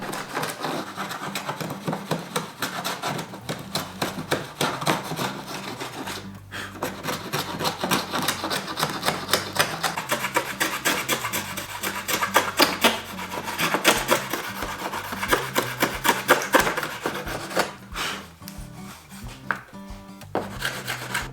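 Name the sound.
hand plane shaving wood for a wooden Gundam chest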